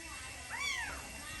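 A single brief kitten meow rises and falls on a farm building site, fairly faint against a steady background hiss.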